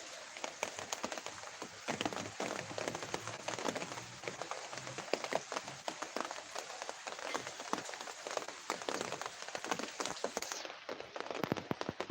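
Heavy downpour in Jessore, Bangladesh, a dense, continuous patter of rain striking surfaces, steady and unbroken for the whole twelve seconds, with no talking.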